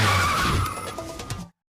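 Sports car tires skid and squeal loudly during a police chase, one sharp close screech fading out over about a second and a half before a brief cut-off.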